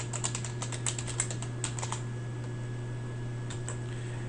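Keystrokes on a computer keyboard while entering commands in R software, a quick irregular patter of clicks for about two seconds, then a pause before a couple more taps, over a steady low electrical hum.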